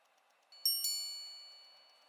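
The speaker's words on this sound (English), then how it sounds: "you can activate this pusher to have the watch chime the time on demand" A Chopard L.U.C Grand Strike watch chimes on demand with two bright, ringing gong strikes, the second following closely after the first, each decaying slowly into a long metallic shimmer over a quiet background hiss.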